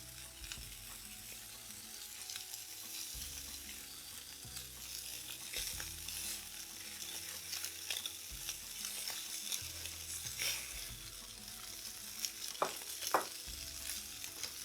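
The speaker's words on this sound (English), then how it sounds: "It's cut into thin pieces. You don't want it too thick. And we're just going to fry it. Nice hot pan." Thin slices of Spam fry in a hot pan over medium heat, giving a steady, moderately quiet sizzle with scattered crackles and pops, alone without talk.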